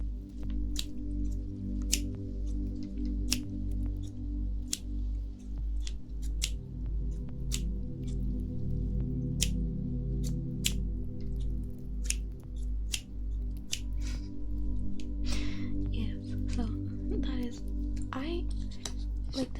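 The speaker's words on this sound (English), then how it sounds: "Here's some scissors." Scissors handled close to the microphone during a 3Dio binaural ASMR session: sharp snips and clicks scattered irregularly over a steady low hum, with soft fiddling noises between them.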